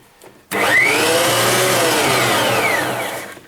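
Einhell TC-SP planer thicknesser switches on with a sudden loud start and runs at a steady high whine, motor and spinning cutter head close by, then begins to wind down at the end.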